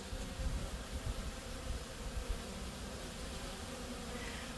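A faint, continuous hum of buzzing bees swarming close by around honey at harvest time, with soft fluctuations and no voices.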